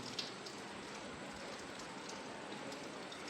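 Light rain falls steadily outdoors during a traditional Ganesh festival in the Konkan, a soft, even patter on surfaces that stays faint and continuous with no voices.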